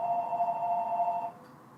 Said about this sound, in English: a telephone's ringing, which kind of interrupting us